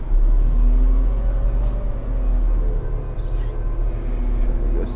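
Concrete mixer truck climbing a ramp in a parking structure between columns, its engine droning loud and steady with low rumble as it revs under load, no talk.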